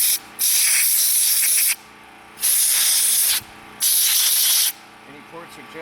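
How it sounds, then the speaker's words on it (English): Compressed air blasted through the ports and jets of an old small-engine carburetor: three loud, steady hissing bursts, each lasting over a second, with short pauses between them and faint workshop noise in the gaps. "Blow through those ports."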